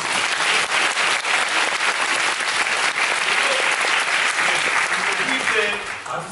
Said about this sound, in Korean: 아트센터 관계자 여러분들께 다시 한번 박수 부탁드립니다